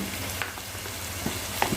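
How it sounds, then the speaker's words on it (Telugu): Chili powder hits hot frying masala for a spicy fish curry, giving a steady hiss and sizzle in the pan with a few soft stirring scrapes and clicks, fairly quiet and close. "ఇప్పుడు కారం వేస్తున్నాను మరి."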